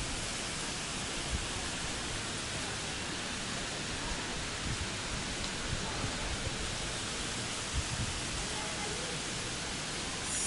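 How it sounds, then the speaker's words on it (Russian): Water cascading down an indoor decorative wall in an apartment-building lobby, a steady dense wash of broadband rushing noise that fills the whole clip evenly at low level with no breaks. "Водопад по стенке."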